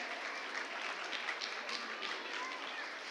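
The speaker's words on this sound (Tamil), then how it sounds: "பலத்த கைதட்டல்களுடன் நமது வாழ்த்துக்களையும் பாராட்டுகளையும் பகிர்ந்து கொள்ளலாம்." Steady, dense applause from a seated audience at a school felicitation ceremony, many hands clapping continuously at an even level with no breaks.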